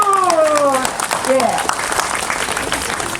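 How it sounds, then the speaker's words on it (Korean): Applause breaks out at a reenactment of Emperor Gojong's Dokdo edict, steady clapping following a spoken voice that fades out early. "예, 박수."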